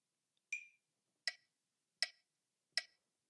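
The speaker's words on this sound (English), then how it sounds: "So if we put in a metronome here, let's say 80 beats per minute with 16th notes" Metronome app clicking at 80 beats per minute, with four sharp, evenly spaced ticks, the first slightly different in tone, close and alone over silence.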